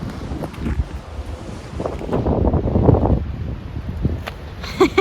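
Gusty wind buffeting the microphone on Mount Fuji in Japan, rising and falling in rough bursts, with a faint high chiming near the end.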